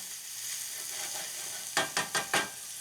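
Garlic and red onions fry in a pan with a continuous soft sizzle, then four quick scraping stirs come in a regular rhythm near the end, close and clear.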